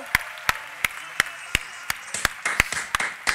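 Sparse applause rises on a live evening show as a guest is welcomed. Single loud claps come at a steady pace, then the clapping grows quicker and more scattered with crowd noise toward the end.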